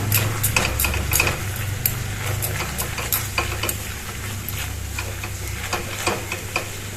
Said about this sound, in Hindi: 1 चम्मच कश्मीरी मिर्च है, इसको भूनना है।